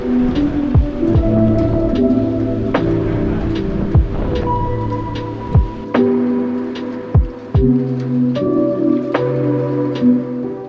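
Rain falling at a hilltop viewpoint in Phuket, Thailand, a steady dense patter with scattered sharper drops and knocks close by, no voices.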